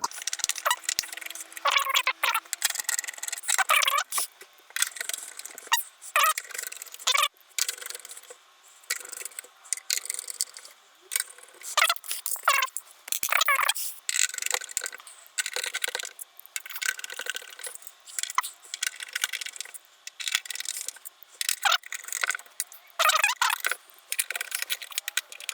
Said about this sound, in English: we'll put all of these little black screws back in first